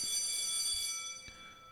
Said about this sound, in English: The class bell rings, disrupting the moment and snapping everyone back to reality.